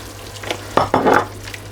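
Tomatoes going into a hot frying pan for a chicken bhindi masala, giving a short burst of sizzling and stirring that rises sharply, holds for about half a second, then settles to a quieter background crackle.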